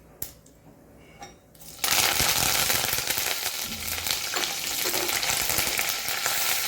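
Curry leaves dropped into hot oil with mustard seeds for a mango rice tempering burst into a loud, steady sizzle and crackle after a quieter opening, continuing close and unbroken.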